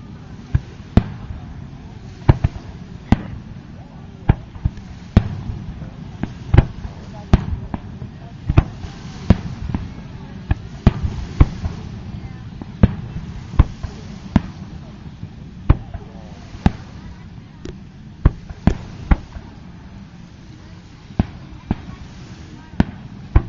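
At the South Haven Light Up The Lake display of 2009, fireworks over a lake go off as a long, irregular series of sharp distant bangs, heard under steady crowd murmur and nearby people talking.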